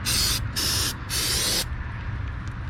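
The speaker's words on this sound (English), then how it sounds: "This has a coating on it, but you can spray this" Three short hissing bursts of an aerosol spray onto a brake rotor of a 2003 Infiniti G35, close and loud, followed by quiet low rumble.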